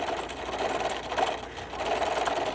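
Sewing machine running steadily while stitching a fabric microwave potato bag along its edge, a continuous close whirring hum with slight dips in speed, no talking.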